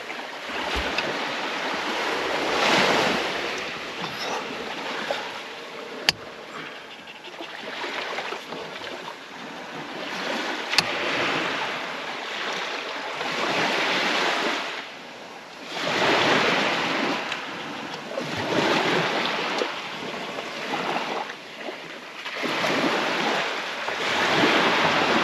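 Tide waves washing in on a tropical beach, loud surging swells that rise and recede in repeated rushes, with wind buffeting the microphone and no talking.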